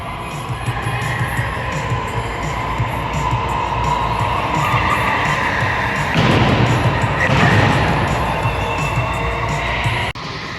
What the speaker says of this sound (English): they're just kind of warming up the carts and prepping them for everyone